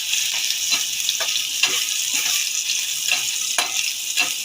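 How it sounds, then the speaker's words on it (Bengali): Chopped garlic frying in a little mustard oil in a kadai: a close, continuous sizzling hiss dotted with small crackles and pops, no voices. "তেলের ভিতরে একটু রসুন দিয়ে দেব"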